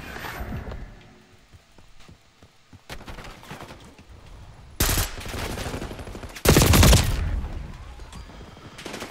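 5.56 rifle fire in Call of Duty Black Ops 6, two loud bursts of close gunfire in the second half, the later one heavier and longer, after quieter scattered game clatter.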